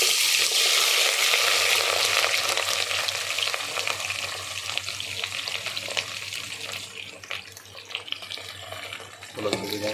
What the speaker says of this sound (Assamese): অলপ ধুনীয়াকৈ ফ্ৰাই কৰি লওঁ পিঁয়াজ জলকীয়াখিনি।